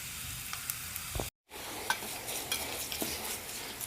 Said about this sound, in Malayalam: ഞാനിവിടെ ഒരു ടേബിൾ സ്പൂൺ വെളിച്ചെണ്ണ ഒഴിച്ച് രണ്ട് ചെറിയുള്ളി ഒരു വെളുത്തുള്ളി ഇട്ടിട്ടുണ്ട്